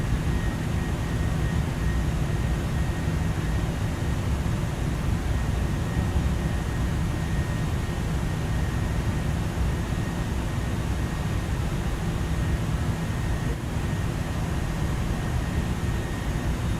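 Boeing 737-800 engines on descent with the throttle pulled back, heard in a flight simulator as a steady, loud, even broadband roar and hum that holds unchanged throughout, with no talk.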